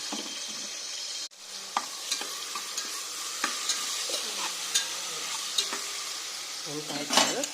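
Tempering sizzles in a pan for a vegetable palya while a utensil stirs it, producing a continuous frying hiss broken by close scrapes and light metallic taps.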